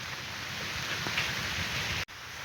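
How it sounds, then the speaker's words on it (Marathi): Light, steady drizzle falls continuously on a cold morning, a dense hiss of drops on surfaces with no voices. "चालू पाऊस आवाज येत असेल याच्यात"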